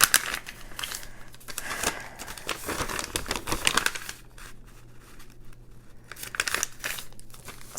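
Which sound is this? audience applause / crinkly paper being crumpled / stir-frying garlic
crinkly paper being crumpled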